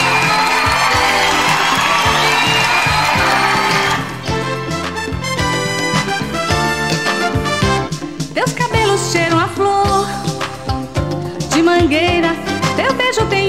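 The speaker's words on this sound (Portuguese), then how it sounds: "vamos receber com um aplauso e muito carinho, Glória Rios" Cheers and whoops from a studio audience welcoming a television show host rise over music, then fade as a song begins with a singing voice.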